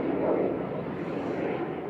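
Boeing 737-800 airliner arriving from Oslo Torp at Manchester Airport roars with a steady broadband engine rush, loud and continuous throughout the short span.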